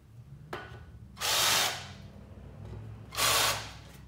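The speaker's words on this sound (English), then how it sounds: "I'll countersink the holes just enough to bury the heads of these number 10 screws I'm going to be using." A power drill countersinks holes in steel angle iron in two short, whining bursts of about a second each, close and fairly loud, after a brief click, with no talk.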